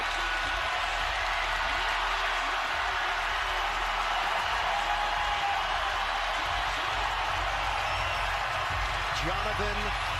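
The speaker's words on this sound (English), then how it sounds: "I thought you stood up with that applause" Crowd applause fills an arena during a Baylor versus Texas Tech college basketball game at a substitution in Waco, a steady, broad roar of clapping with faint commentary underneath and a few shoe squeaks near the end.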